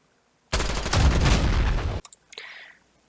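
Rapid automatic gunfire from a P90 submachine gun in Call of Duty: Modern Warfare (2019), a loud dense burst of about one and a half seconds, then a few mechanical clicks and rattles.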